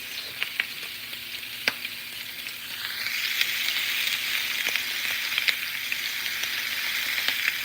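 Steady crackling sizzle of hot sausage and radish frying in a pan, with scattered sharp pops, continuous and close, growing a little louder midway.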